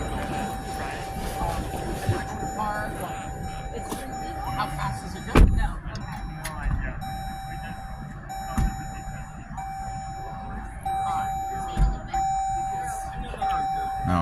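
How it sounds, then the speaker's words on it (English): Repeated electronic warning beeps from a Dodge Durango SRT SUV signalling that the key fob has left the vehicle, a steady tonal chime pattern running under someone talking, with occasional door and handling thumps. "it's a different beep because it's telling me the key fob has left the vehicle."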